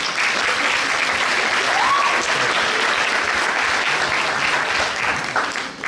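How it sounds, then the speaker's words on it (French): Sustained audience applause fills a hall at the Québec regional Expo-Sciences science fair finale, a dense steady clapping that holds for several seconds before easing slightly at the end. "On peut l'applaudir."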